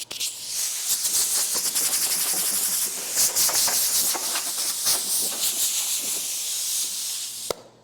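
Compressed air blows steadily over a new car bedside panel before painting, a loud continuous hiss lasting several seconds with small fluctuations, ending abruptly.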